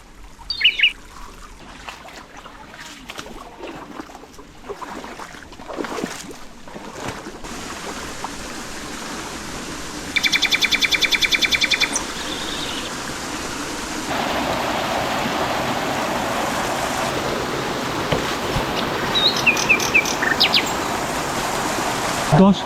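Water trickling down a forest stream toward Haduri waterfall near Sylhet, a steady broadband wash that swells in places, with occasional bird calls and a few brief louder bursts.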